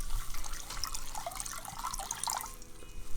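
White wine pours into a soup pot of roasted red pepper and tomato soup, a soft, close trickle and splash of liquid with light dripping sounds throughout.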